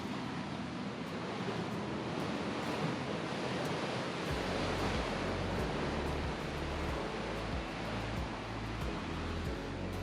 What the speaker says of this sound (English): Huge waves coming through in there.